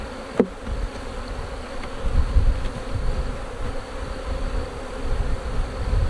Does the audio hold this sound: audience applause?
no